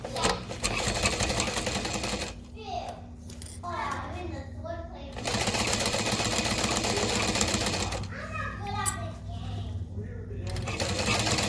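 A sewing machine stitches a backpack side seam at a 3 stitch length, with steady rapid runs broken by two pauses where someone speaks, then resuming.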